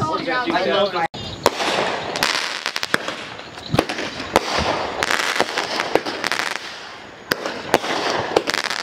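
Fourth of July firework mortars exploding, a rapid run of sharp cracks and booming bursts, some close and loud, others crackling farther off, with people talking and shouting throughout.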